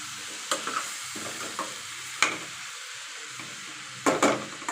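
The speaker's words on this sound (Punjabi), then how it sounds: "ਨਾਲ ਹੀ ਅਸੀਂ ਕੱਦੂ ਜਿਹੜਾ ਕੱਟਿਆ ਸੀਗਾ ਉਹਨੂੰ ਵਿੱਚ ਐਡ ਕਰ ਦਿੱਤਾ ਹਾਂਜੀ ਜੀ ਕੱਦੂ ਨੂੰ ਅਸੀਂ ਮਿਕਸ ਕਰ ਦਿੱਤਾ" A spoon scrapes and stirs chopped green bottle gourd in a frying pan over a soft, steady sizzle, with a few sharper clinks against the pan, close and fairly quiet.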